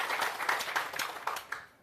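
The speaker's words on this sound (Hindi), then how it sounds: "जोरदार ताली।" A gathered audience at a panchayat committee meeting in Bihar applauds, a dense burst of many hands clapping for under two seconds that tapers off at the end.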